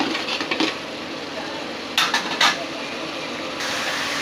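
A spoon scrapes and clinks against a pan while turmeric is stirred and sautéed in oil, with a few clustered metallic taps over a steady background hiss, no speech heard.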